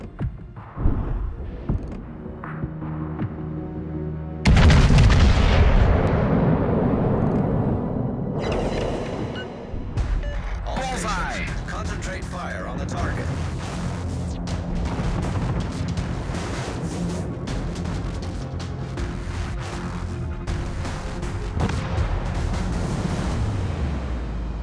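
Warship artillery in the mobile game World of Warships: Legends fires in heavy booming salvos, with a big blast followed by repeated rumbling shots and explosions over a continuous low roar.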